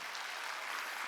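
Church congregation clapping during a Sunday worship service, a dense steady wash of many hands filling the whole short moment at even loudness with no voices.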